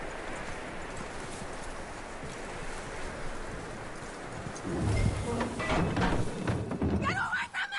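Horse hooves clip-clopping in Red Dead Redemption 2, steady hoofbeats under a continuous outdoor ambience that grows louder and busier toward the end, with a voice briefly audible.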